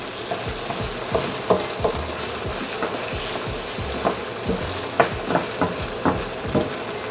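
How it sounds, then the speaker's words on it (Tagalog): Tomato paste stirred and fried in a pan over medium heat for pork asado, a steady sizzle broken by regular scraping strokes of a spoon, close and fairly loud with no talking. "Para mawala masyado yung asim, lutuin nyo maigi yung tomato paste"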